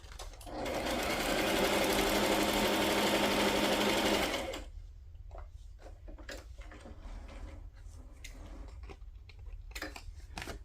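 A sewing machine stitches a matchbook notebook in one loud, continuous burst of about four seconds. It then stops, leaving scattered light clicks and handling taps of paper and tools.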